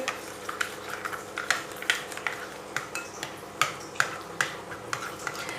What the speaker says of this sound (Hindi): अंडे और दूध और सूजी को, तीनों चीज़ों को करेंगे अच्छे से मिक्स